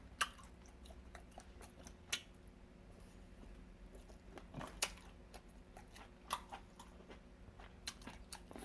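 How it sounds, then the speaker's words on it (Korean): Close, quiet chewing of grilled homemade sausage during a ramen meal, with scattered soft bites and crunches over a low, steady room background. "수제지도 지금 구워 먹고 있어요"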